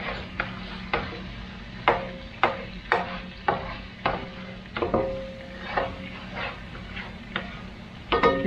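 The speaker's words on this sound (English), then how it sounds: "And now you let that simmer for a little bit" Garlic steak bites simmer in a small amount of marinade in a pan, with a steady sizzle under repeated sharp clinks and scrapes of a utensil stirring, close by and without talk.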